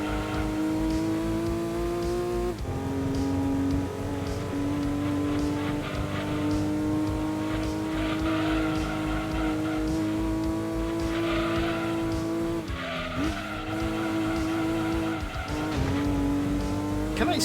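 Race car engines from the Gran Turismo 2 video game on PS1, a steady loud engine drone with shifting pitch through the final lap, brief dips at gear changes and squealing tires in the corners, with no talk over it.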